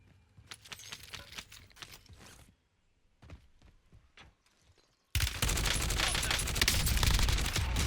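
Gunfire in the video game Warzone: scattered single shots and short bursts, then a sudden loud, sustained barrage of rapid fire that dominates the end, all without talk.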